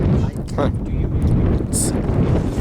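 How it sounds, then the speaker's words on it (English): Strong wind on a New Hampshire ridge buffets the microphone in a constant, rough roar for the whole moment, with faint sounds barely poking through. "It's so windy right now."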